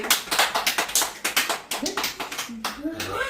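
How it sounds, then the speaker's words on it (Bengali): Several people clap together at a child's first birthday party at home, a steady run of sharp close claps with a voice rising near the end. "তালি দাও সবাই।"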